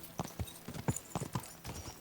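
Horse hooves clip-clop at a steady walking gait on hard ground in the video game Kingdom Come: Deliverance II, a crisp, close rhythm of about a dozen distinct hoofbeats.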